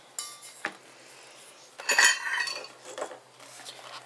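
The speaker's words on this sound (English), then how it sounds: "I'm just using a spoon to help push the powder through." A metal spoon scrapes and clinks against a bowl in a few short strokes as powder is stirred, close and fairly quiet.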